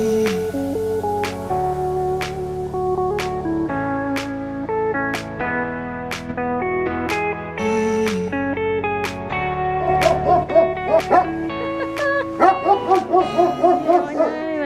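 A dog barks and yips in a run of short, sharp bursts toward the end, heard over a steady tonal background while moored in a hilltop-castle town during a sailing trip.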